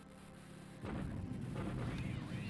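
Bombing raid explosions in the strategy game War in the Pacific, heard as a low rumbling burst of distant booms that starts abruptly after a quiet moment and rolls on steadily at moderate loudness.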